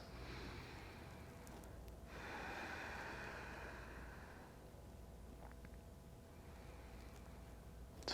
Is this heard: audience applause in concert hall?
no